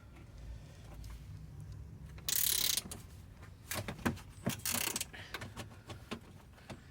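A ratchet working a bolt under the intake of a Toyota A90 Supra, giving a series of close, irregular metallic clicks and clatters with a brief burst of rattling noise partway through.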